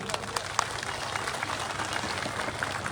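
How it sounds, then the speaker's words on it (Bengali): A crowd claps at a BJP political rally in West Bengal, giving a steady wash of applause with some voices mixed in. "আমাদের সমস্ত নেতৃত্বকে একবার জোরে হাততালি দিয়ে বরণ করে নিন।"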